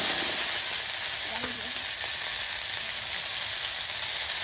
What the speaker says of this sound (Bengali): কড়াইতে তেল দিয়ে দেব তেলের মধ্যে দেব শুকনো লঙ্কা আর গোটা সর্ষে এবার কুলটা দিয়ে দেব